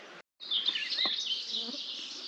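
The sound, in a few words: swarm of midges and mosquitoes buzzing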